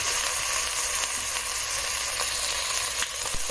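Garlic sizzling among cooked-down onions in a pan for cream of portabella mushroom soup, a dense, even frying hiss up close with faint stirring ticks.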